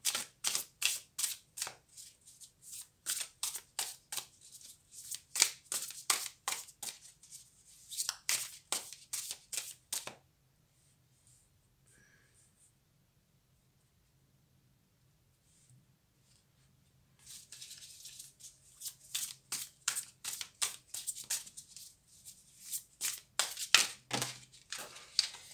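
Tarot cards shuffled by hand make rapid crisp riffling bursts in two long runs separated by a quiet pause, close and fairly loud with no talk.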